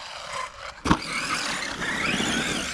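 An ARRMA 4S RC car running on a small track with no differential, a steady whining motor hum with a sharp knock partway through, close and fairly loud.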